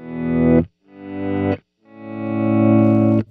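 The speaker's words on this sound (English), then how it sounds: "you just got a little auto volume swell" Three synth-like guitar notes from a Keeley Electronics Synth 1 pedal each fade in smoothly as auto volume swells with the attack set low, distorted and buzzy. Two shorter swells are followed by a longer sustained one, with brief silences between.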